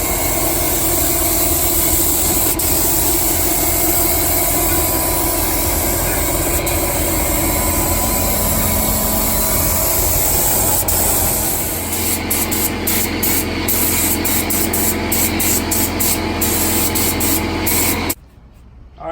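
Steady broadband hiss of spray-painting black primer onto a 1966 Cadillac, loud and continuous with a low engine-like hum underneath, later broken into short on-off bursts before cutting out near the end.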